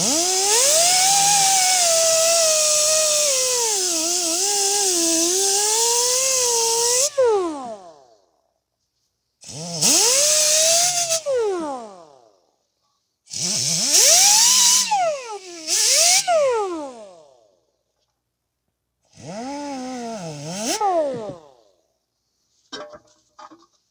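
A rotary tool cleans the inside of a brake caliper during rear brake work on a 2021 Toyota RAV4 AWD 2.5 with an electronic parking brake. It makes a close, high whine that runs long, then comes in several shorter bursts that rise and fall in pitch.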